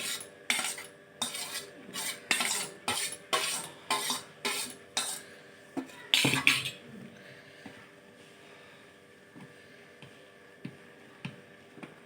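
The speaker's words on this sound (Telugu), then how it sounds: "ఒక క్యారెట్ పెద్దది తీసుకొని తురుముకొని ఇడ్లీ పిండిలో కలుపుకోవాలి" Grated carrot being mixed into fermented idli batter, a spoon knocking against a steel bowl in a steady run of close, crisp clinks that slows and fades into a quiet room, with no talking.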